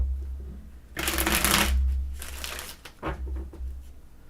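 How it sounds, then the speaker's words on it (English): Tarot cards being shuffled close up, a couple of bursts of crisp riffling and rustling, fairly soft, with no voice over them. "Let's shuffle real good, Alaya."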